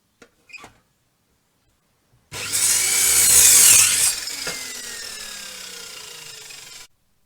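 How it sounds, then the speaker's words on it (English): A power drill bores a pilot hole into timber for a raised garden bed, a sudden loud whirring burst that peaks, then drops to a steadier, quieter drone before cutting off. "Drilling a good pilot hole is really important."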